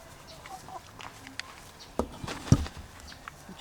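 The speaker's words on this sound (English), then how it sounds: "We just have 3 laying hens right now" Three laying hens in a backyard coop cluck softly and sporadically, a few short, louder clucks standing out near the end against quiet outdoor background.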